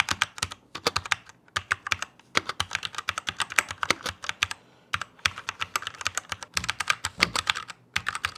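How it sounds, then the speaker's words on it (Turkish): Typing on a Rampage Parvus 61-key mini mechanical keyboard with brown switches, steady bursts of crisp close key clacks with brief pauses, no voices. "Şimdi size şöyle bir klavyenin sesini, switchlerinin sesini dinletmek istiyorum."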